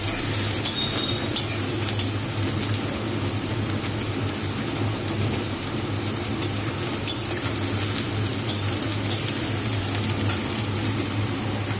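Eggs fry in a pan for a special egg dish with a steady, close sizzle, broken by occasional sharp clinks and scrapes of a utensil stirring, no voices.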